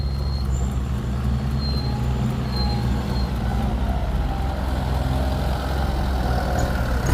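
A Kubota M108S tractor engine labours steadily in deep mud, trying to push free a bogged 7840 tractor, with a loud, continuous low diesel rumble and no pauses across the whole stretch.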